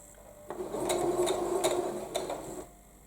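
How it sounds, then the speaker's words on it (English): A domestic sewing machine runs forward through a few stitches on a quilting project, a steady whirring motor hum with light rhythmic clicks, close and fairly quiet, starting and stopping cleanly. "pop my presser foot down and sew forward 3 or 4 stitches"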